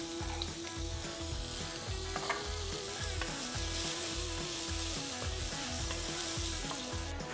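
Chopped onion frying in smoked lard for a cabbage and Carniolan sausage stew, a steady close sizzle with a regular stirring rhythm running through the whole stretch, no talking.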